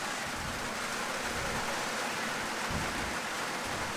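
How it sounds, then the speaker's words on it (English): Rain falling over an outdoor country football match between Bannockburn and Inverleigh on ANZAC Day, heard as a faint, even hiss with no voices. "Rain getting a bit heavier here"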